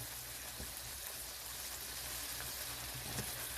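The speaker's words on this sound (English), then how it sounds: "So let me stir this around and I'll get my garlic in." Tex Mex casserole mixture frying and sizzling in a pan as it is stirred, a steady close crackle with faint scraping and no talking.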